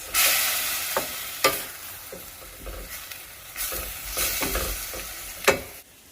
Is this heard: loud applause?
no